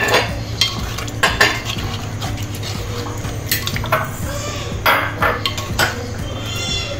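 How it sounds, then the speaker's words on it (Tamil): Fish pieces stirred together in a pan produce scraping and clinking of a utensil against metal in irregular strokes, over a low steady hum and soft sizzle. "மீன் பீஸெல்லாம் ஒன்றா சேர்த்து நல்லா ஒன்றா ஒரு கிளறி விட்டுருவோம்"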